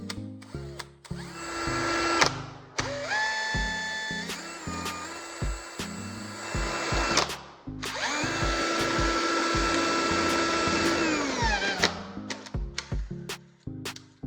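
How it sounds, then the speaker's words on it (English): A small homemade electric drill bores a hole through a handle, whining in two long bursts with a sharp rising and falling motor pitch, broken up by clicks and knocks between runs. "let's drill a hole in the handle so we can run the wires through"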